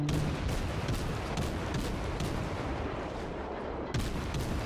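Heavy naval artillery salvos from a German cruiser in World of Warships roar loud and close, a dense continuous barrage of booms with a few distinct blasts standing out.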